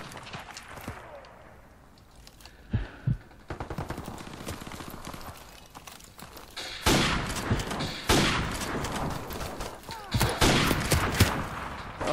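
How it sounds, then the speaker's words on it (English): Gunfire from a gun in Call of Duty Modern Warfare Remastered: bursts of rapid automatic shots and scattered single cracks, loud and close, with quieter gaps and game ambience between volleys. "I hate this gun so much."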